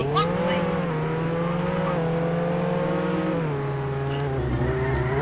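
A car engine drones steadily in the Roblox game Jailbreak, holding a loud, even pitch that dips slightly near the end, with faint clicks over it.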